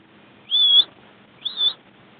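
A bird calls twice during a quail hunt, two clear, whistled notes about a second apart, fairly close, over a quiet outdoor background.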